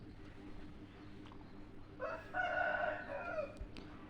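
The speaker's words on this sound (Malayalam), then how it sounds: "അയലോക്കത്തുള്ള കോഴിക്കളാണ്." Neighbours' chickens in a rural Kerala setting, with a rooster crowing once at middle distance over steady background noise, the call rising then holding for about two seconds.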